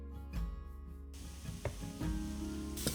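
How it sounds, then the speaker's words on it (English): Thai red curry paste with coriander sizzles in a hot pan while being stirred, giving a close, steady frying hiss with a few scraping stir strokes. "Stir and cook for a couple minutes."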